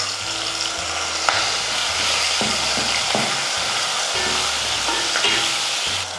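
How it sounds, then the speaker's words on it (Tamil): Ground onion paste frying in oil for an egg gravy, a loud continuous sizzle broken by repeated clacks and scrapes of a spoon stirring against the pan, no talking. "வெங்காயம் வந்து நல்லா கலர் மாறுற அளவுக்கு நல்லா எண்ணெயில் வந்து நல்லா வதக்கிக்கணும்"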